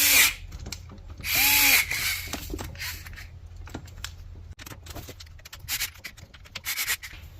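A power tool tightens the six side bolts on the frame of an RC monster truck, a Losi LMT Son Uva Digger, sounding in a few close, whirring bursts of varying length with quieter handling clicks between them.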